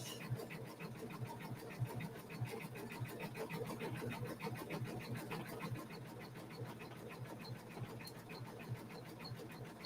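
An embroidery sewing machine stitching a satin stitch on a Kimberbell Enchanted Winter Tree block hums with a rapid, even needle chatter. The sound stays steady and fairly quiet for the whole stretch.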